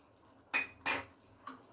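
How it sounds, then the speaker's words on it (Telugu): Cauliflower vegetable curry is mixed in a pot, with two quick metallic scrapes close together and a fainter third clink after, over near silence. "ఇప్పుడు ఇవన్నీ ముక్కలకు పట్టాలంటే బాగా కలపాలి"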